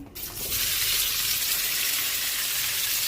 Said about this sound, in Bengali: এবার এই দুটো শুকনো লঙ্কা দিলাম, এই পেঁয়াজ দিলাম